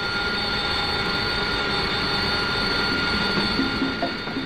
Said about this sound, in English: By rotating the nozzles forward a vertical, the aircraft can be taxied in reverse under its own power.